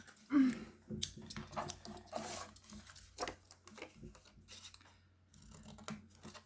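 Quiet, close snipping and rasping of small scissors cutting paper, a series of short cuts with brief pauses between them.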